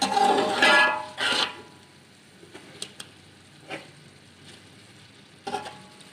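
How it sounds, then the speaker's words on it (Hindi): Chicken frying in a pot for yakhni pulao, a loud burst of sizzling and stirring at the start that fades into quieter crackling with occasional clicks and scrapes, no talk. "चिकन को 15 से 20 मिनट के लिए भून लेंगे अच्छी तरह।"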